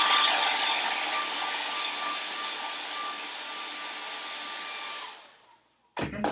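A hair dryer runs loud and steady while drying Mod Podge on Hocus Pocus Halloween craft blocks, then winds down and cuts off near the end, followed by a few brief handling knocks.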